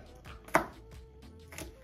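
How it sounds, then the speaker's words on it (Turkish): A knife chopping fresh dill and green onion on a board, a few quiet, close taps with one sharper cut standing out. "Ya Emre, bunları arkadaşlar ince ince kıyıyormuşuz"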